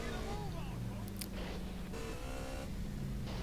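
Motorcycle engine in GTA San Andreas, with CJ riding in San Fierro, a steady droning motor with shifting pitch heard throughout under ongoing game sounds and a talking voice.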